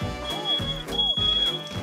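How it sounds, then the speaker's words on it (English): Smoke detector fire alarm going off in a kitchen, sounding as a steady high electronic tone through loud repeated pulses, with cooking clatter and a voice under it. "And the fire alarm."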